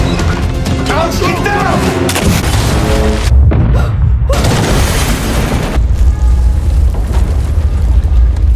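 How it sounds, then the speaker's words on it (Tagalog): A loud film explosion: heavy booming blasts and a dense roaring rumble fill the whole stretch at high volume. "Naglaho ang lahat sa isang malakas na pagsabog."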